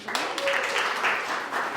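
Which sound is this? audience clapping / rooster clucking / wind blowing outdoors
audience clapping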